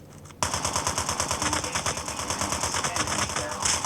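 Rapid automatic gunfire from a video game erupts after a brief quiet start, a dense loud rattle of repeated shots continuing steadily to the end.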